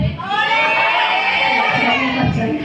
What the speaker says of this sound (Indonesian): Mari kita beri aplaus dulu untuk anak-anak.